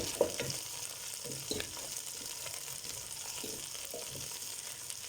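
Onions frying in olive oil for an East African stew give a soft, steady sizzle with a few faint stirring scrapes and clinks, quiet and continuous without speech.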